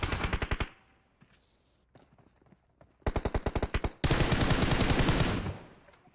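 Automatic gunfire in PUBG Mobile, loud rapid bursts of shots: one short volley, a quiet gap with distant scattered pops, then two longer sustained bursts close by.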